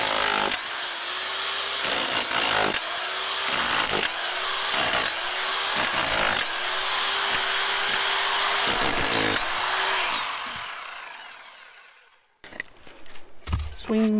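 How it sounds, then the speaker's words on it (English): A power drill bores in repeated bursts of several seconds each, loud and close, with whining motor tones between short pauses, then the noise stops and faint handling sounds follow. "maybe do some more drilling."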